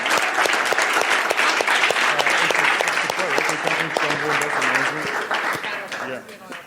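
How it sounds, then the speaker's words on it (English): An audience bursts into sustained applause for an MVP award presentation, dense clapping from a room of people that fades slightly toward the end as a few voices speak through it. "let's give Wes a round of applause for all of his hard work"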